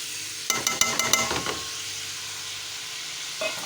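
Tomatoes tipped into a pan of mutton karahi set off a few sharp clanks and a burst of loud sizzling, which quickly fades to a quiet hiss.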